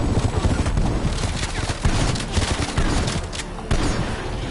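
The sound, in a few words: Semtex grenade in Call of Duty Black Ops video game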